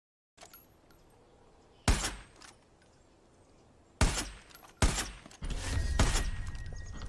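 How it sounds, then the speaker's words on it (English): Gunfire in the video game Far Cry 5, arriving as a few loud, sharp shots with crackling decay, separated by quieter stretches, then a denser burst of firing toward the end. "I shot him 100 times."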